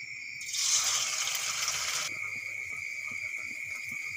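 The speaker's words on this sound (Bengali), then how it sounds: "আবারও একই রকমভাবে বড়াগুলো ভেজে নেব।" Potato pakora fritters fry in hot oil with a bright hiss that surges for about two seconds, then settles into a steadier, fainter sizzle.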